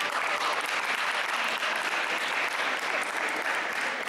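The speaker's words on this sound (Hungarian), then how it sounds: "Nagy tapsot neki!" A crowd at the Mondocon 2016 spring convention claps steadily for a Dance Dance Revolution contest winner during the results ceremony. The applause is dense, even and sustained, with no clear speech over it.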